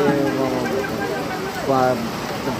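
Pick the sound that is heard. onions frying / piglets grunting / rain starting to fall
rain starting to fall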